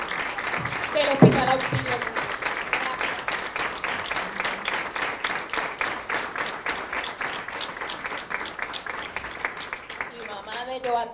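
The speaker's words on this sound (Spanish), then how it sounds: "vamos a darle un fuerte aplauso y gracias por confiar en el programa de trasplantes" An audience at a hospital's liver transplant program anniversary event applauds transplant patients, steady rhythmic clapping running throughout under a brief stretch of speech at the start and voices near the end.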